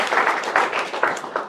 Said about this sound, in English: I'd just like another little round of applause for them as well.